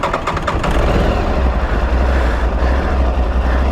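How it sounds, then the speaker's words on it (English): A 2023 Aprilia Tuareg 660 motorcycle with an L-twin engine settles into a steady, throbbing idle right after starting. The idle is close and loud, with a low pulsing rumble and no talk. "Classic L-twin sound."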